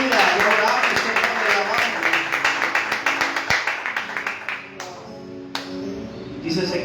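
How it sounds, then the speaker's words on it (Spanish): A church congregation claps together in quick, rhythmic applause that fades toward the end, with voices talking and calling out over it. "Denle un fuerte aplauso al Señor, hermano."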